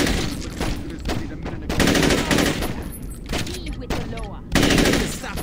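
Gunfire in Saints Row 2, loud rapid automatic bursts repeating in close succession, with someone speaking faintly underneath.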